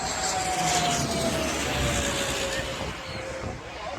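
An airliner flies low overhead at Maho Beach, its jet engines producing a loud, sustained roar with a descending whine as it passes, then easing slightly as it moves away.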